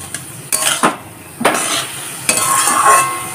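Drumstick flowers frying in a pan over a high flame, with a steady sizzle and several sharp scrapes and clinks of a spatula stirring against the metal.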